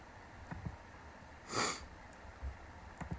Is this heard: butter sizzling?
no